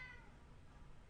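A pet cat meows near a fish tank indoors, with one drawn-out, fairly faint cry that fills the moment alone, with no talking.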